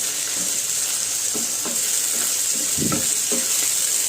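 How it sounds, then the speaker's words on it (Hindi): Minced meat keema frying and being stirred in a pan, a loud continuous sizzle with a few scraping stirs cutting through it, close by. "अब ये सारा खीमा इसी के अंदर डाल के अच्छी तरह से भुनाई कर दीजिए इसकी।"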